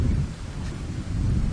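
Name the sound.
rain with thunder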